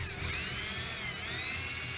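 A drill grinds steadily into a metal sphere, a continuous high whining buzz that holds at one loud level from start to finish with no talking over it.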